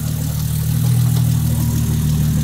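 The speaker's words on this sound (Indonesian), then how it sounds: "Nah, suara mesin pun berubah kan." A car engine running on a standalone ECU idles at about 700 rpm after its base ignition timing has been set, holding a steady, loud, low hum throughout without any speech.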